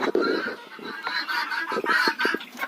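Hens in a poultry yard cluck and cackle in quick, repeated calls, close and fairly loud, overlapping throughout with no speech.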